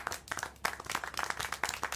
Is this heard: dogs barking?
no